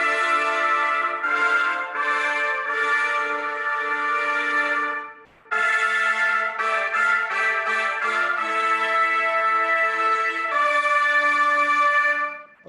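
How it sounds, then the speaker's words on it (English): High brass ensemble parts, trumpet and mellophone, played back from GarageBand: sustained harmonized chords in steady phrases, with a brief drop near the middle before the full section resumes, loud and with no talk. "So this is all of the trumpet mellow parts"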